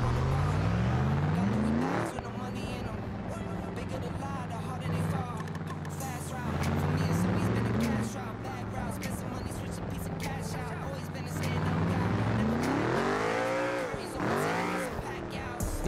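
A C6 Corvette drift car engine revs hard toward 8,000 RPM, climbing and dropping in pitch with repeated roaring surges, tires squealing at times, loud and close, with a person talking over it.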